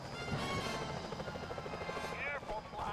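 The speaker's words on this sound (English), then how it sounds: "Those security choppers are bad news." Security helicopters in the video game Sly Cooper: Thieves in Time whir with a steady rotor drone under game effects, while a voice talks over the top.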